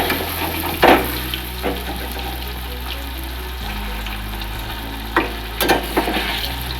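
Jackfruit koftas fry in hot oil with a soft, steady sizzle, broken by a few sharp louder crackles and pops as pieces are dropped in and turned.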